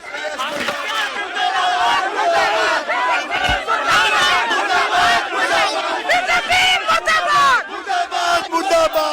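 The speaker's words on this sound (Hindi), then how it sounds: "एक तरफ कॉकरोचेस वो है जो आरएसएस मुर्दाबाद के नारे लगा रहे हैं" A large crowd chants RSS murdabad slogans at a rally, loud and close, with many voices shouting in ragged, repeated bursts that keep going with no break.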